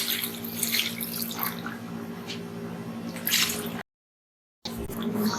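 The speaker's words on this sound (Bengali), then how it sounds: "এবার চুলের পানি দিয়ে দিচ্ছি" Water pouring and splashing at close range into a pan of fried katla fish head, with a brief silent gap before the flow resumes.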